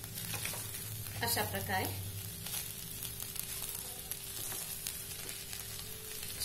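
Schezwan fried rice with spring onion tossed and stirred in a hot pan, soft scraping and faint sizzling throughout, with a brief spoken phrase over the cooking noise.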